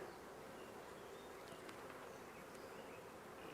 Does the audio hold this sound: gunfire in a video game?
no